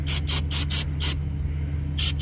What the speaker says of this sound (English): I'm finna spray these rotor down, spray these parts down